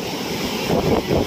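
Rough sea waves break and surge against the Malvan shore, a continuous loud roar of surf with a swelling rush near the end, mixed with wind buffeting the microphone.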